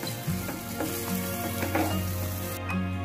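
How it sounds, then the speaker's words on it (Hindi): Rice grains sizzle and crackle in hot ghee as they are stirred, with soft scraping and clinking from a spoon, close by. "चावल को हम घी में मिक्स कर लेंगे।"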